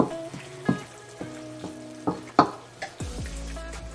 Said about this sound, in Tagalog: Haluin nyo lang maigi.